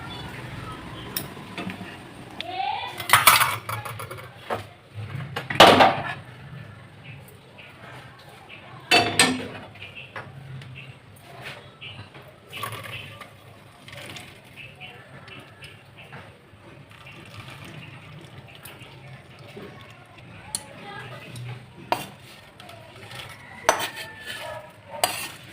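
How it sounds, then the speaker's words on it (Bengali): Metal utensils clink and tap against a pot while homemade ghee is strained at a home stove, sharp scattered clinks over a quiet background with occasional soft voice. "ঘিটা ছেঁকে নেব"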